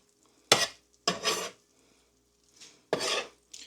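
Mushrooms and onions stirred in a pan with a utensil, heard as four close scraping, rasping strokes against the metal, separated by short quiet gaps and with no voice.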